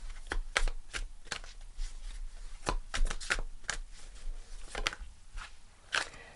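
Tarot cards are shuffled and drawn at close range, making irregular crisp riffles and snaps spread through a quiet background, with no talking.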